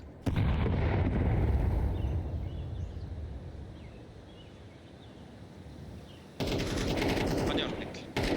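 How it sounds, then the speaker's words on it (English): A grenade exploding in the game Counter-Strike 2: loud broadband blasts and gunfire bursts at the start and again near the end, with a quieter rumbling stretch between. "Grenade out."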